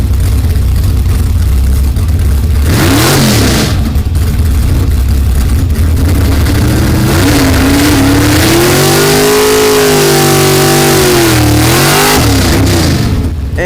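A 1500HP twin-turbo Camaro exoskeleton drag car launches down an NHRA drag strip, its engine roaring loud and close, revving hard with rising and falling pitch sweeps through repeated acceleration bursts.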